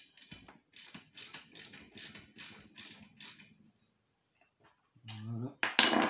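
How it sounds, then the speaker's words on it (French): A ratchet spanner loosens the exhaust pipe nuts on a Motobécane 95 TT motorcycle, clicking in a rapid series of regular metallic strokes, close and clear, followed by a pause and a short burst of speech. "desserrer les écrous de la pipe"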